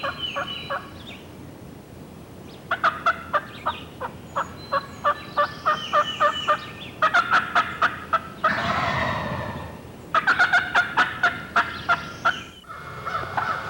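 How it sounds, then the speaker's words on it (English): Repeated sharp yelps and cutting calls in quick bursts from several longbeard Rio Grande wild turkeys calling close by in spring, in rapid rhythmic series with brief pauses between volleys. "Listen to their yelps and cuts"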